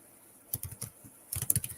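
Someone types on a computer keyboard in two short bursts of quick key clicks, close and fairly quiet, with a pause between them and no talking.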